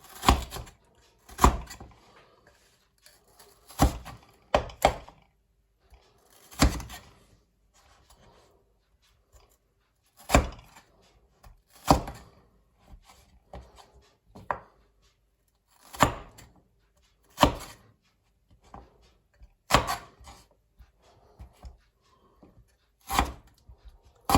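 Knife chopping leftover pork on a cutting board, in sharp, irregular thuds and taps spaced a second or two apart, close and clear with no talking.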